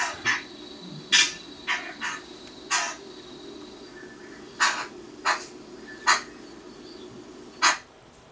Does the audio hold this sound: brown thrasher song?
yes